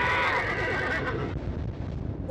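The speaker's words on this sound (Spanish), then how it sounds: "Un caballo." A horse neighs in the horror video game Layers of Fear, a loud, shrill whinny tapering off over a couple of seconds against a dense, noisy backdrop.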